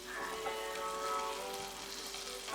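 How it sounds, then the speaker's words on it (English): Shrimp sauteing in a little butter in a pan gives a soft, steady sizzle, fairly quiet and continuous, with a faint tonal hum in the background and no speech. "And we're going to saute the shrimp."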